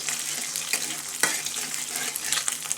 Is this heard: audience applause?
no